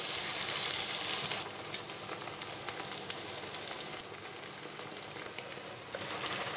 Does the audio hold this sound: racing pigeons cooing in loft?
no